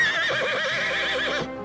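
A horse in the video game Mount & Blade: Bannerlord lets out a loud, close whinny, a quavering high neigh lasting over a second before cutting off.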